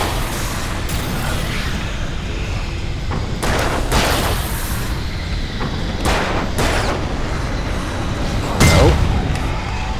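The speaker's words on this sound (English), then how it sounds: "That was a very, very weak explosion." Explosions and booming blasts in the video game Alan Wake, several sharp broadband bursts spread across the stretch, one louder hit near the end, over a continuous rumbling game soundscape.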